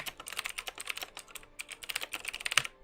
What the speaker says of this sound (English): I'm trying to minimize keyboard.